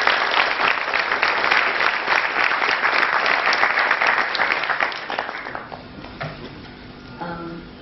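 An audience at an atheists' gathering applauds loudly and steadily in a dense wash of clapping, which thins out and fades over the last few seconds as faint background sounds remain.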